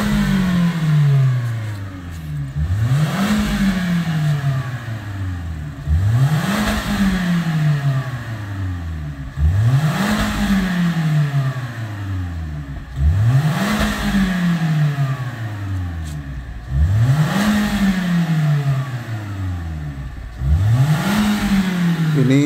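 A car engine being revved repeatedly, about seven evenly spaced rises from idle to roughly 3000 rpm, each falling back, loud and close with a steady idle between bursts and no talking.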